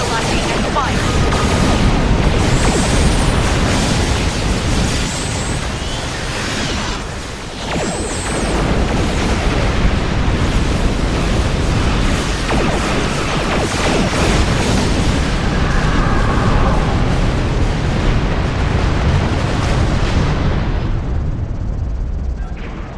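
Space combat in Star Trek Online as ships fight Alachi vessels near a rift: continuous loud weapons fire and rumbling explosions layered over a dense battle din, with brief sweeping beam tones and game voices in the mix.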